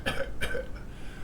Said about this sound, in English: where's this dry cough coming from?